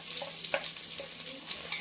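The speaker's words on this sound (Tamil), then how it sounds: "வதக்கிடுவோம்," Garlic and sliced onion sizzle steadily in a pan, a constant close frying hiss with a few soft stirring clicks and scrapes.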